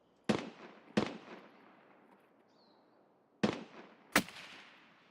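Four sharp SVD sniper rifle shots in a PvP shooter game, each a loud crack with a long rolling echo, two close together near the start and two more later, heard alone without talk.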